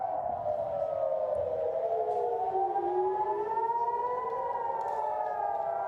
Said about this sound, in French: nous écoutons ces sirènes d'alerte aérienne